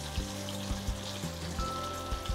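Mutton chops coated in maize flour frying in hot oil, a steady close sizzle with soft intermittent bubbling pops throughout.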